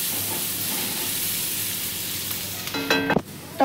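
Turmeric and vegetables fry in a pan with a steady, close hiss of sizzling oil, broken near the end by a short clatter of a utensil against the pan.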